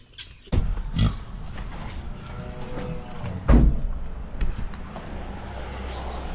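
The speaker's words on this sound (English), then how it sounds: "Hungry pigs coming in." Pigs grunt and snort close by in irregular bursts, with a couple of sharp louder knocks among the noisy farmyard sounds.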